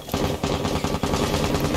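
Rapid automatic gunfire from a Rainbow Six Siege match, a dense, continuous burst of loud shots with brief stutters, close and alone without voices.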